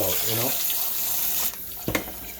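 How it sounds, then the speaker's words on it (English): Hot water runs from a kitchen sink tap over oxtail meat being rinsed, a loud steady rushing stream that shifts and splashes near the end, close by. "Put another round of hot water on it."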